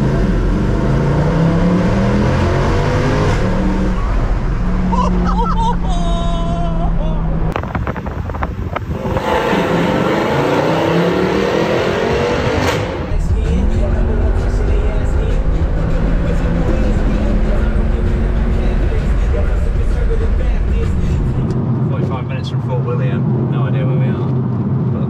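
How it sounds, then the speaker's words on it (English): A Mercedes C63 AMG driven in manual mode with the windows down through a small tunnel by a seafront railway, its engine revving hard and echoing, with wind rush and loud throttle swells over roughly twenty-five seconds. "we found a small tunnel which meant windows down in the C63"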